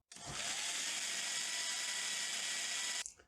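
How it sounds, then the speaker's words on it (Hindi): A kitchen blender whirs through fried onions in one loud, steady burst of about three seconds, starting abruptly and cutting off sharply, with no talking. "पहले मुझे इससे थोड़ा सा ब्लेंड करना है।"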